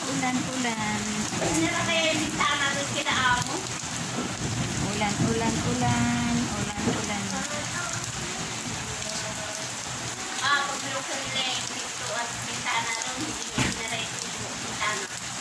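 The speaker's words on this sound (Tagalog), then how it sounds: "Ito, ulan sa Saudi." A steady downpour of heavy rain hisses loudly throughout while people talk over it, in Saudi Arabia.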